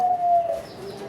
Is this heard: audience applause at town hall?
no